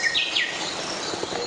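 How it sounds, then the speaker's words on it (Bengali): Birds chirp and twitter beside a forest waterfall, a few quick rising calls standing out at the start over a steady rush of falling water, with fainter chirps scattered through the rest. "শোনা যায় পাখির কিচিরমিচির"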